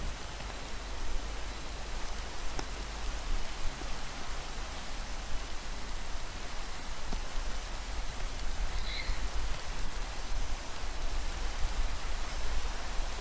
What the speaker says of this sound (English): Oh, it's raining so bad.